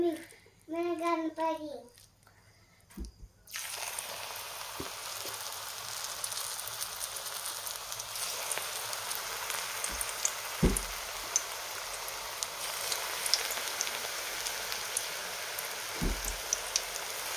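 Coriander bhaji fritters go into hot oil and fry with a steady, bright sizzle and occasional pops, after a voice speaks briefly at the start.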